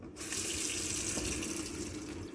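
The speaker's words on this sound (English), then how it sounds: "when I go to turn on the water faucet" Water runs steadily from a bathroom faucet into a sink, a full, even rushing splash that starts abruptly and continues without pause.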